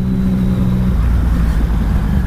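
A Yamaha Tracer 900 GT motorcycle engine runs loud and close, its tone shifting partway through as the revs change, with no talking.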